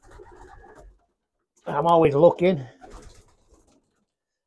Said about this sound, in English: My family of pigeons are inbred now.